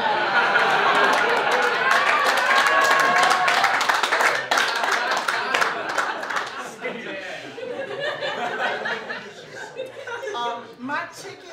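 Lecture hall audience claps loudly and sustainedly, mixed with chatter and chuckles, the applause thinning toward the end.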